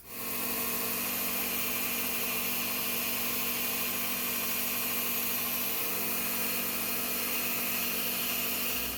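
An old Wilton belt sander runs steadily at close range while fitting an engraver liner, a loud continuous motor whine with belt hiss that holds level throughout, with no talking.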